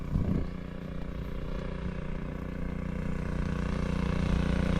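Motor running out on a farm during watering, a steady, close, droning engine hum that holds an even rhythm throughout with no talking over it.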